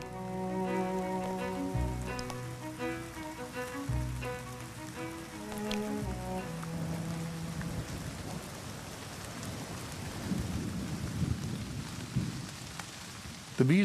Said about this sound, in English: Those who remain face the full force of the rain.